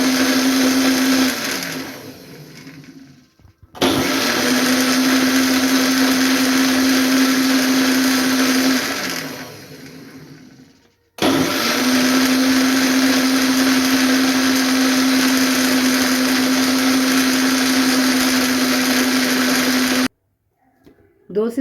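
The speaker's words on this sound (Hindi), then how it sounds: "दो से तीन मरतबा मैंने ब्लेंडर को चलाया है, मशीन को" An electric blender churns cream into homemade butter, whirring loudly and steadily in three long runs with short stops between them, the motor pitch starting up and winding down at each start and stop.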